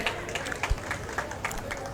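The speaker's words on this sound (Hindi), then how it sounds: "तो एक बार जोरदार तालियों से हम उनका अभिनंदन एवं" Crowd applause welcoming an independent candidate at a by-election road show in Badrinath, scattered claps from a crowd, moderately faint, blended with background voices.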